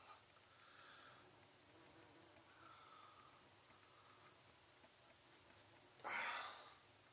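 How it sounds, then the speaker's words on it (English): A bee buzzes inside a room, a soft, steady drone that carries through the whole stretch, then swells into a louder, closer burst near the end as it passes near. "A bee got in here and I don't want to get stung."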